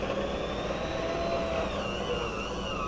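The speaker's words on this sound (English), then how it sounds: "Now I'm going to go back to my mixer" An electric stand mixer runs on high while mixing dough for Italian knot cookies, giving a loud, steady motor whine with a constant drone and no pauses.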